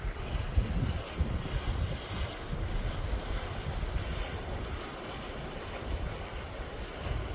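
Glacier-fed water rushes and laps continuously outdoors near Kaza while wind buffets the microphone, a steady, fairly loud wash with no voices.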